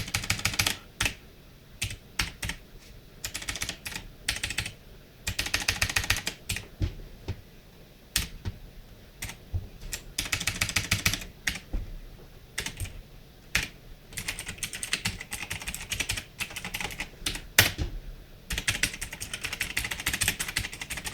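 Keys are pressed on an ABKO K650 keyboard, producing close, crisp clicks in irregular bursts and rapid runs of typing, with short pauses between groups.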